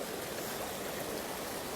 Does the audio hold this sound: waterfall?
yes